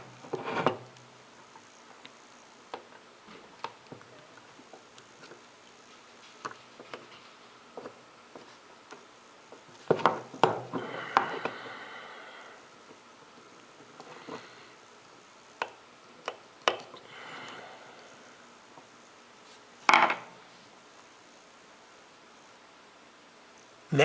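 Small metallic ticks, scrapes and taps come from a small screwdriver pressing packing into the stem of a leaky household water valve, sporadic and close with quiet gaps between them.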